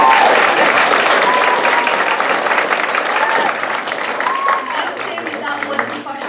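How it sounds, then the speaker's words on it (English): Loud, dense applause from an audience at a children's junior stage production of a Shakespeare-themed play fills the whole stretch and eases slightly toward the end, with voices and a few pitched whoops mixed into the clapping. "So can we give them a round of applause?"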